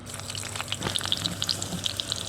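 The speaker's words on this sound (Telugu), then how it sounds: "ఇలా వేగుతున్న తాలింపులో" Urad dal, cumin, garlic and dried red chillies crackle and sizzle in hot oil for tempering, with a steady frying hiss and scattered sharp pops close by.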